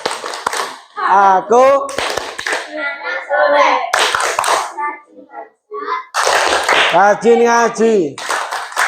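A second-year primary school religion class chants in unison with bursts of rhythmic hand claps, loud and close. Children's voices carry the words between the clapping patterns, with short pauses between phrases.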